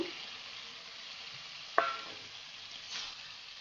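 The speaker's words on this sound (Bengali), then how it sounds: "এবার আমি মূলাটা দিয়ে মশলা দিয়ে কষাবো" Radish goes into a pan of fried spice paste and stirred, giving a soft steady sizzle with one sharp clatter of the spoon partway through, quiet and close, with no one speaking.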